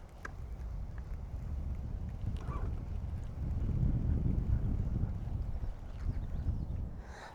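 Wind buffets a boat on a clear lake during fishing, a low rumbling gust noise on the microphone that swells and eases, with faint distant bird calls.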